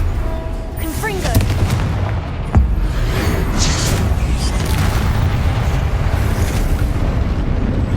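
A Confringo fire spell exploding in the video game Hogwarts Legacy, a loud booming blast with a sharp crack and a rolling low rumble under ongoing game combat noise and a voice.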